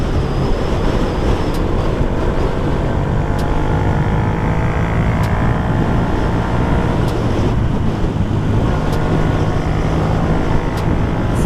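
Wind roaring constantly against a rider on a Yamaha MT125 motorcycle, loud broadband buffeting with the engine droning underneath, and no talking.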